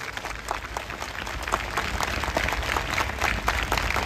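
A church congregation claps together in praise, a dense steady roll of many hands that stays loud and even throughout with no voices over it.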